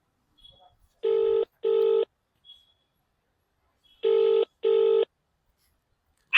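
A telephone rings back on a call, two pairs of clear electronic ring tones separated by silence, loud and close with nothing else heard.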